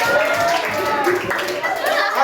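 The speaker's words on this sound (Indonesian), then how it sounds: "Oh, beri aplaus dulu." Applause from students in a classroom, a short, steady patter of clapping hands that stays dense for about two seconds, with children's chatter mixed underneath.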